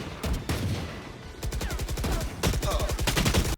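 Rapid automatic gunfire from a shooter video game plays in close, loud bursts of evenly spaced shots separated by brief pauses, ending abruptly.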